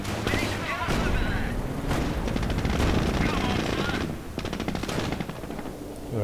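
Battlefield gunfire in Company of Heroes, loud rapid machine-gun bursts and rifle shots with distant artillery booms, dense and continuous, while soldiers call out under the shooting.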